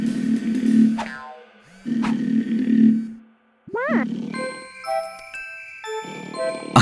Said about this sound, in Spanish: Son los ronquidos del pájaro dormilón.